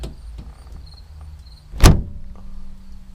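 A campervan door slams shut once, a sharp close thump against a quiet interior, followed by faint clicks and rustling.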